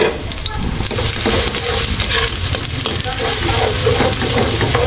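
Garlic and onion fry in cooking oil as the base for chicken liver and gizzard adobo, a dense, steady crackling sizzle close up with occasional stirring, continuous and fairly loud.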